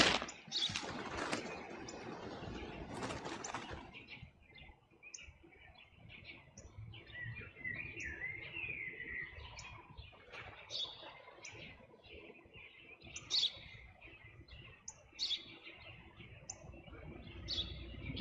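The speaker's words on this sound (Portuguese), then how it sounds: "Eu já te disse, pai, é um pássaro." Birdsong heard from a distance: faint, scattered high chirps and tweets repeat through a quiet outdoor scene after a few seconds of louder rustling noise, with no talk over them.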